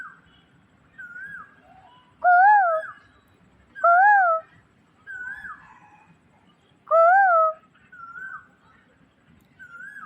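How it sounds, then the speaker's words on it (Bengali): An Asian koel calls repeatedly with rising, whistled two-note phrases. Several loud calls sit close by, with softer answering calls in between, over a low murmur of background noise. "তো কোকিল ডাকছে"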